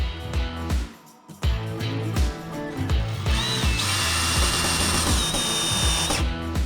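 A cordless drill whirs in short bursts driving screws into a cabinet hinge plate, with ratcheting clutch clicks between runs and a longer high-pitched spin near the end.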